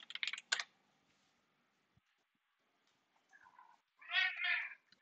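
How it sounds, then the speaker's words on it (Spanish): A cat crying and meowing indoors in a living room, a couple of loud drawn-out calls near the start and a longer wavering cry near the end, with quiet gaps between and light keyboard typing. "Tengo otra vez un gato llorando en la sala"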